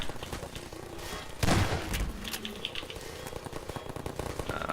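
Combine turrets open fire in a Half-Life 2 custom map set in a lakeside village, a short burst of rapid automatic shots at mid distance followed by scattered faint pops and crackles.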